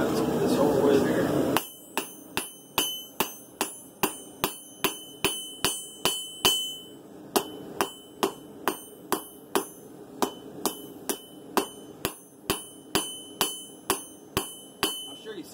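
Sharp ringing hammer blows on a forged steel blade resting on an anvil, struck in a steady rhythm of about twenty close, loud metallic clangs, each with a bright decaying ring.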